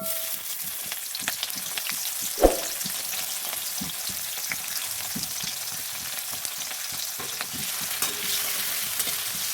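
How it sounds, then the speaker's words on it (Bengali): Chopped onion fries in oil dusted with turmeric, giving a continuous soft hiss with small crackles and occasional stirring taps, one sharper knock early on, close but fairly quiet. "এর মধ্যে দিয়ে দেবো একটা কুচানো পেঁয়াজ"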